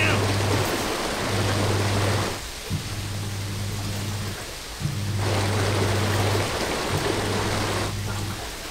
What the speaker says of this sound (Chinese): 你听，这就是大海的声音。